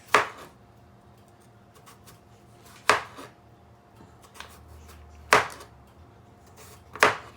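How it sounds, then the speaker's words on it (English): A knife slicing through filling for mince pies, four crisp cutting strokes landing on a board at uneven intervals, close and clear against a quiet kitchen background. "I'm just slicing it through, see?"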